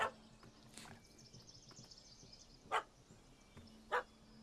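A dog barks in the video game The Witcher 3: Wild Hunt: three short, sharp barks at the start, middle and end, fairly close against a quiet outdoor ambience.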